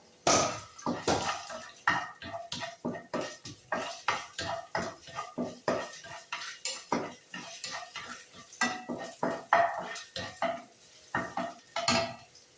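Chopped garlic and ginger fry in hot oil for an egg curry while a metal spoon stirs and scrapes the pan in quick, steady strokes. The clatter sits close and prominent over a soft sizzle, with no talking.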